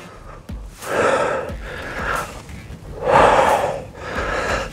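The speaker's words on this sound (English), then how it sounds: "you can hear me breathing heavy" A person breathing heavily during dumbbell goblet squats, close and loud, with several strong gasping inhales and exhales in an irregular rhythm and no speech.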